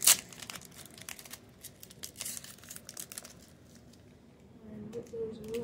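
A hockey card pack wrapper is torn and crinkled open with a sharp rip at the start, followed by close crackling plastic rustles and handling noises.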